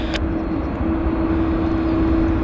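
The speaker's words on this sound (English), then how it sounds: "Let's get the WestJet landing" A WestJet airliner landing at Vancouver YVR airport: a steady, loud engine drone with a constant hum and a broad roar underneath, continuous throughout.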